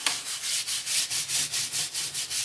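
Surgical scrub brush scrubbing a 12-string guitar during a de-gunking restoration, a close, soft hissing rasp in steady back-and-forth strokes, about a dozen rhythmic swipes with no talking.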